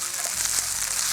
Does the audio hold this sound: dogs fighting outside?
no